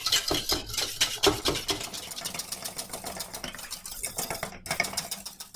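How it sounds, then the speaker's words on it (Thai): A hand whisk beats egg and sugar in a bowl for tiramisu, a quick run of rhythmic metallic clicks and scrapes against the bowl, close and fairly loud, with no talk. "แมมก็ใช้ตะกร้อมือ ตีเขาแบบนี้ค่ะ"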